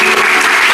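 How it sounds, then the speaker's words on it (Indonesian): A church audience applauds for Pak Richard during a sermon session, a loud dense burst of clapping filling the whole brief moment with no speech. "beri tepuk tangan dulu untuk Pak Richard"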